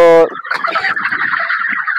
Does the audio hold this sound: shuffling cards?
no